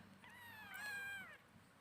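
A 22-day-old kitten gives one thin, high meow lasting about a second, close and clear over a quiet, hissy room background.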